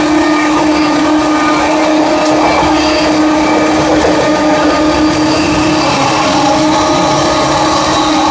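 The Amrit Bharat Express runs at speed through Prayagraj Junction, heard as a loud, steady roar of rumble and rushing noise with no pauses.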